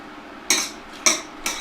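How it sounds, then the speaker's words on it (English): A utensil clinks and scrapes against a pan three times, spaced about half a second apart, as spaghetti is sautéed in puttanesca sauce. The clinks are sharp, close and stand alone with no talk. "I'm going to saute it first a little bit."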